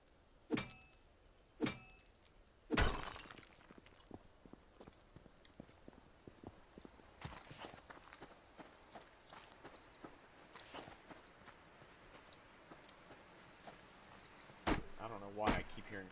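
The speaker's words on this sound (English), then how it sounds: "Why I keep hearing footsteps." Footsteps in the survival video game Subsistence, several sharp isolated thuds spread across the span with quiet stretches of ambient game noise between them.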